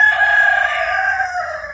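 A rooster crows once, loud and close, in one long drawn-out call that holds steady and fades slightly toward its end.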